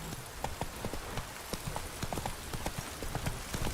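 Roach the horse trotting in The Witcher 3, with steady, evenly spaced clip-clop hoofbeats close by over a dense ambient background.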